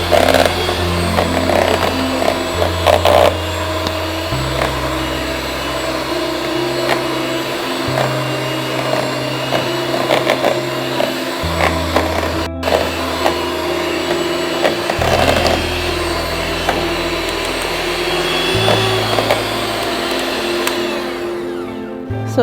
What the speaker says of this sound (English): just use your hand mixer to mix everything so as to make it faster